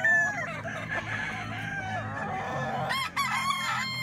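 At a busy chicken market, roosters crow over a dense background of clucking hens, loud and close, with several overlapping calls.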